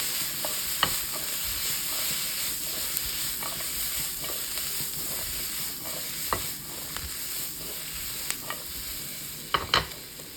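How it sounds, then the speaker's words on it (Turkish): Peppers and mushrooms being stirred and fried in a pan for a vegetable meatball sauté, with a steady sizzle throughout and scattered sharp scrapes and clicks of the utensil against the pan, no talking. "sürekli karıştıra karıştıra sebzelerimizi biraz kızartıyoruz."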